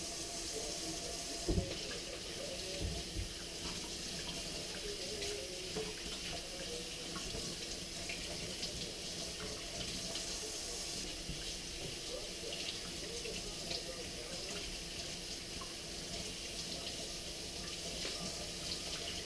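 Water runs steadily from a tap over dry-brined sucker fish being rinsed in a sink, a continuous hiss and splash with occasional small knocks, at a moderate, even level throughout.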